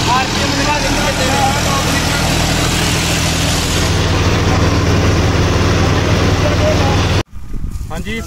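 John Deere 5050D four-wheel tractor engine running nearby, a loud steady low rumble that cuts off abruptly near the end, with someone talking over it.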